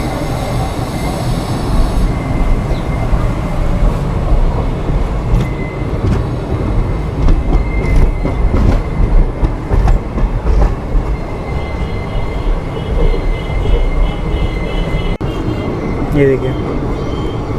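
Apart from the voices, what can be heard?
express train passing close by in Rajasthan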